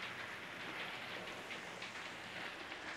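Heavy rain pours steadily outdoors on a wet day, a dense, even hiss of drops on surfaces throughout, fairly close and continuous with no voices.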